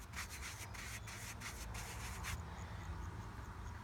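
Cloth or applicator rubbing a cleaning product into a Jeep's surface while removing mud, a steady close scrubbing with rhythmic strokes for the first two seconds, then a softer continuous rub.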